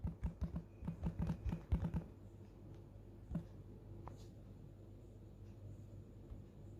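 Typing on a computer keyboard in a quick run of light clicking keystrokes that stop after two seconds, followed by a few isolated taps against quiet room hum.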